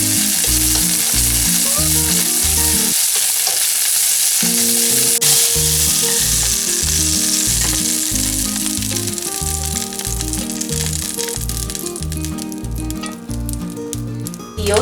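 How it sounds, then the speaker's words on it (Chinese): Bell peppers stir-fry in a little hot oil with a loud, continuous sizzle and crackle, broken by a brief quieter moment and rhythmic stirring and scraping against the pan, heard close with no talking. "煸一下彩椒"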